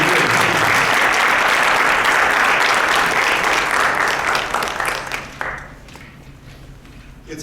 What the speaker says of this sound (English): Can we please applaud for all of them